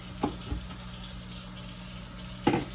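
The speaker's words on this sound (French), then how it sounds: "on va juste rincer ça à l'eau froide ici au robinet pour une meilleure conservation" Homemade butter is rinsed under a cold kitchen tap, giving a steady running-water hiss broken by three short splashing bursts as the lump is handled, near and fairly loud.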